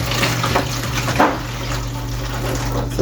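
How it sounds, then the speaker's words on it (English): Water pours from a pot of cooked corn in a steady, loud rushing stream, splashing continuously with a brief surge midway. "I'm gonna pour off some of the water because I don't want it to boil over in the stove"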